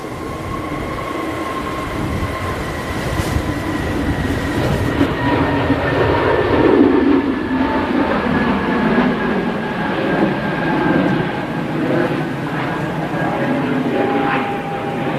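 An SAS airliner departs Manchester Airport bound for Oslo, its jet engines building into a loud, steady roar with a sustained whine that swells mid-way and then holds.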